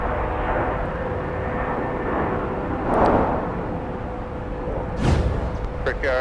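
A Delta airliner taxiing at Minneapolis–St. Paul airport gives a continuous jet engine rumble and whine, swelling briefly midway and again near the end, with a voice talking over it.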